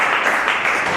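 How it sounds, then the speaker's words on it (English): Steady dense applause from a film festival audience, loud and continuous, with no voices over it. "Ladies and gentlemen, give them a big round of applause for coming out."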